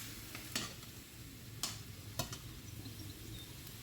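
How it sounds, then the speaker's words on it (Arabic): Chicken pieces frying together with onions in a pot for a traditional Algerian kebab tagine, a soft steady sizzle with a few sharp spoon or stirring clicks, close by and without speech. "نخليهم يتقلاو هكذايا مع بعض مع البصل هذاك"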